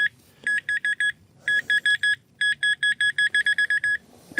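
Bursts of high electronic beeping from a metal detector, rapid pulses in irregular groups that quicken toward the end, fairly close and loud.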